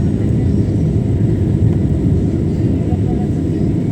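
Airplane cabin during climb, a steady loud low rumble and roar of the engines filling the cabin throughout, with no pauses.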